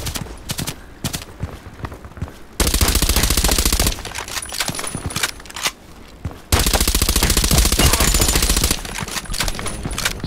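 A suppressed H&K MP5SD6 fires in the shooter game Contract Wars: two long, loud bursts of rapid automatic fire, separated by quieter stretches of footsteps and game ambience.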